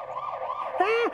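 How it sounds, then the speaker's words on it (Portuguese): A fire engine siren wails with a rising, wavering electronic tone, fairly close and steady, swelling louder near the end. "Será que esse som é da sirene do bombeiro?"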